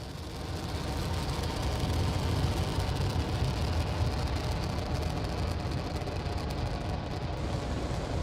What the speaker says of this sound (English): We have throttled the Merlins back up to full power